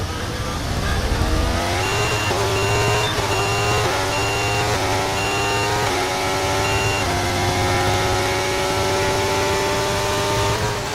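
Formula 1 race car engine in F1 23, a loud steady high-pitched whine with rising harmonic sweeps through gear changes, running continuously throughout.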